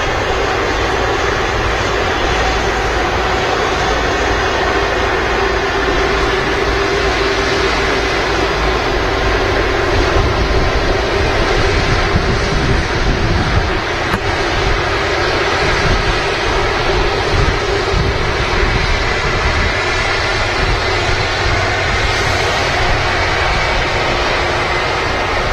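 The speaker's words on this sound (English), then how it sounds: "Virgin Atlantic A330 on the taxi out." A Virgin Atlantic Airbus A330 taxis out at Manchester Airport, its engines giving a loud, steady whine and roar held at a constant level throughout, with no voices over it.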